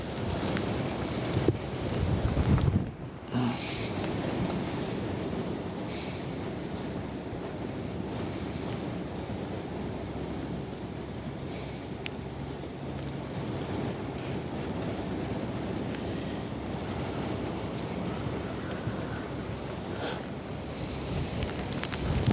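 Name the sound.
strong wind blowing on microphone by the water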